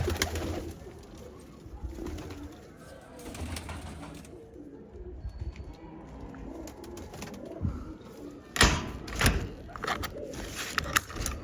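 Pigeons nesting with chicks coo softly in a low, throaty murmur that continues through the clip, with some sharper knocks and rustling toward the end.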